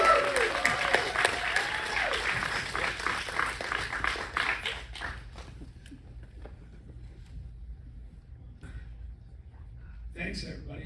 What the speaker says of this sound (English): please join me in giving a huge round of applause to director John Hyams